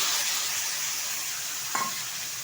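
Half-ground coconut paste fries in a pan for a vegetarian white ash gourd ghonto, giving a soft, even sizzle close by, broken once by a short scrape of a spatula stirring.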